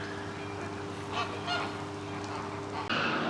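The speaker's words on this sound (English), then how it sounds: "These are Brazilian whistling duck, black-bellied whistling ducks." Black-bellied whistling ducks at a zoo making several honking, goose-like calls over a constant low background hum.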